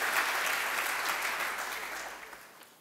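A church congregation clapping together, a dense, even burst of many hands that holds for a couple of seconds, then tapers off and dies away.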